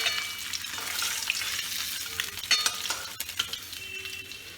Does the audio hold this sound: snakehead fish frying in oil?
yes